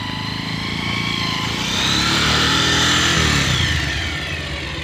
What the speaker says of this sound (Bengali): তুই তো অনেক ভালো বাইক চালাস